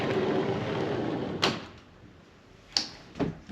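A hotel room door in a Tokyo hotel, the Mitsui Garden Hotel Roppongi, swings shut with a couple of soft knocks and latch clicks against a quiet room hush.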